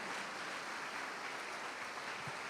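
A congregation applauds in a church, a steady, fairly distant wash of clapping that holds evenly throughout with no voices over it.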